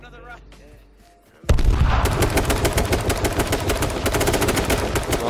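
Sustained automatic gunfire from the video game H1Z1 bursts in after a quieter opening, a rapid dense stream of loud shots continuing without a break to the end.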